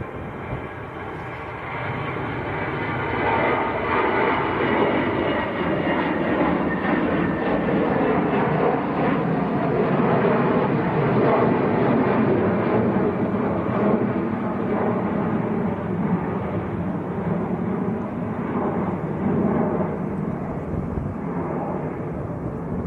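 A jet aircraft at Manchester Airport on a windy day roars steadily and loudly for the whole stretch, a broad continuous engine rumble with wind buffeting, no talk over it.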